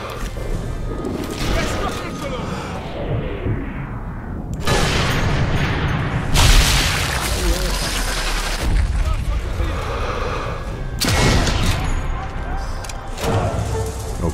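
Sniper rifle shots in Sniper Elite III: Afrika, loud booming reports cutting in one after another amid dense game effects, with a voice talking over the action.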